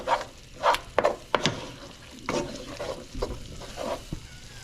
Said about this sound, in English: Keep stirring the pasta